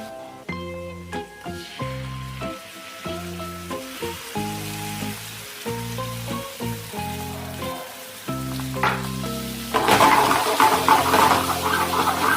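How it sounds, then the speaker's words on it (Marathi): Mutton chops fry in a pan with homemade onion-garlic chutney, a crackling sizzle under bursts of loud music that grows into a fuller, brighter hiss toward the end. "आता हे चांगलं थोडंसं फ्राय करून घ्यायचं आहे"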